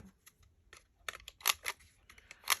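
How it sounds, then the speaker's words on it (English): Scissors snipping through paper while trimming pages for a purple mash-up travelers notebook craft project, heard as a few quiet, sharp crisp cuts spread out over a short stretch, close by with no talking. "Definitely want to cut that off."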